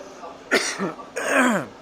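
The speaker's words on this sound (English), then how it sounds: "Sorry, I'm hacking and coughing here" Two rough, hacking coughs, one short and one longer and raspier, close to the listener in a quiet room.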